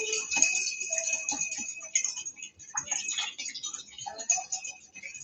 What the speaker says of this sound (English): The sound of a stirred cocktail and the sound of a shaken cocktail.